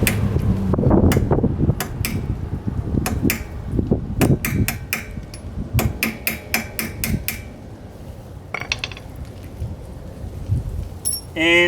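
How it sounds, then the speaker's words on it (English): A hammer taps out a brake pad retaining pin on a 2016 Cadillac CTS-V, giving a series of sharp, bright metallic strikes in uneven bursts, close and fairly loud over faint workshop background. "I'm going to go ahead and tap this last pin out here."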